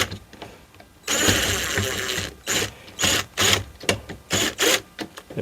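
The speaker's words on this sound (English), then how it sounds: "we're just going to screw these onto the plate here" Small screws are driven onto a smart lock mounting plate during a keyless entry lock installation, heard as a close run of short whirring, ratcheting bursts, one longer then several brief ones in quick succession.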